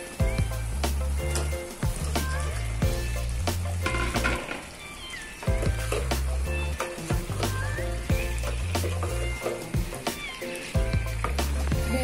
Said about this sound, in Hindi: हमारा मसाला ही अच्छे से भून चुका है, और इसमें हम अरबी ऐड करेंगे।